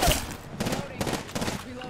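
Incoming gunfire in the battle royale shooter Apex Legends, a few quick shots and short bursts close by, with speech mixed in.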